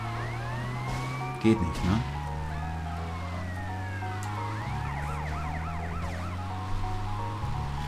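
Police car siren wailing repeatedly in the video game GTA Vice City, rising and falling tones over a continuous engine drone, with brief voices talking over it.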